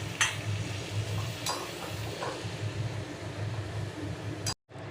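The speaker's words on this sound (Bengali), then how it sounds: "মশলাটা যখন এর সঙ্গে ভাজবো সে সময় আমরা এর সাথে কিন্তু সামান্য জলও দিয়ে দেব" Spices frying with potato and cauliflower in a pan for aloo phulkopi, a steady close sizzle with scraping stirs throughout, cutting off abruptly near the end.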